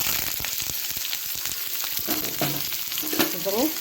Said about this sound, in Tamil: இப்போ சேர்த்துட்டு நம்ம நல்லா கலந்துக்கிட்டு வதக்கி விட்டுக்கலாம்.